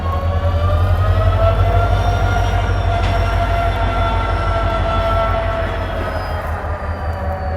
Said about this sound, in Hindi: यहाँ बिल्कुल 2:05 पे हमारी ट्रेन निकल चुकी है हावड़ा रेलवे स्टेशन से